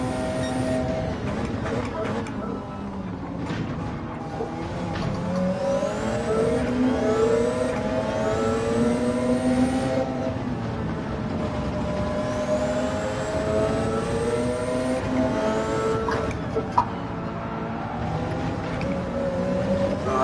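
Race car engines in Gran Turismo 7 whine and rise through the gears on track during an MGC Racing championship race, a close, continuous revving with pitch sweeps as shifts come, and someone talks over it.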